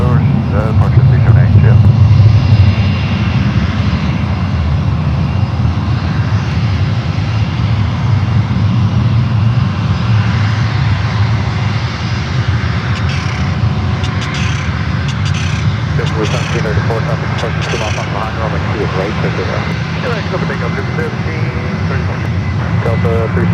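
Airliner jet engines at San Francisco International Airport, including a JetBlue plane, roar steadily and loudly, fading slightly after the first few seconds, while radio chatter from air traffic control is heard over the noise.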